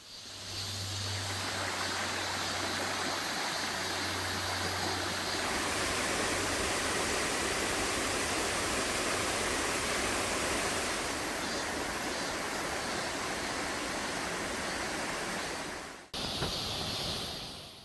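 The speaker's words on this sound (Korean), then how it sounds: "옆으로 계곡 물소리도 시원합니다" Water in a mountain valley stream beside a trail to a Korean waterfall village rushes in a steady, dense hiss that stays even throughout. A faint low hum sits under the opening seconds, and the sound cuts out briefly near the end.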